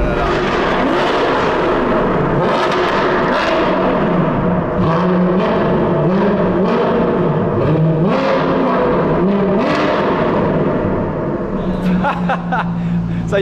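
An Alfa Romeo 8C Spider engine revving under throttle from inside the car, loud and continuous with rising and falling pitch across repeated throttle blips, and a voice talking over it throughout.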